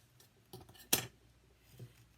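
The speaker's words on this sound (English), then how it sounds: "I want to cut that at a nice angle" A pair of scissors snips paper at an angle for a papercraft card, a few soft handling noises leading to one sharp, close cut, then quiet rustling.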